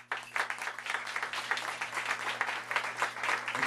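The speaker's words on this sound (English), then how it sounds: "so give her a round of applause." Audience applause at an awards ceremony, a dense steady wash of clapping from a hall crowd, moderately loud and sustained throughout with a faint low hum beneath.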